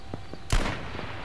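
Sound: gunshot from a video game

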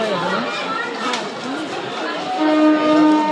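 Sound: train at station

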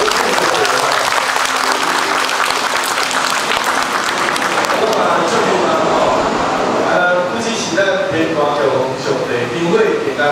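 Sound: audience applause

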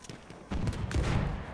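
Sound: gunshots in video game Battlefield 1

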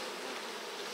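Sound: honey bees swarming around the hives

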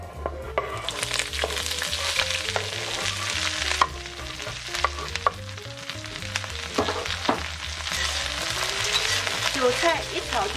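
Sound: stir-frying Chinese chives in hot oil in a wok

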